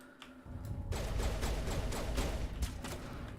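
Rapid bursts of gunfire crackle from an old horror video game, a fast run of sharp shots starting about a second in and continuing at a moderate level under the game's ambience.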